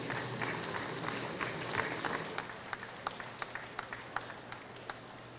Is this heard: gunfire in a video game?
no